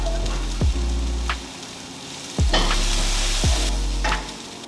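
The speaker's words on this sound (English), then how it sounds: "when our onions get a little bit golden brown, we are going to add the tofu into the pot" Onions sizzle as they fry in a pot while tofu is stirred in for a vegan scramble. A steady loud frying hiss is broken by repeated scraping strokes of a spoon against the pot.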